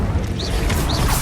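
Incendio fire spell cast in Hogwarts Legacy, a brief rushing burst of flame with crackling, whooshing texture over a low rumble of game ambience.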